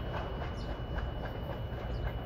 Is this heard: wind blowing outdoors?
no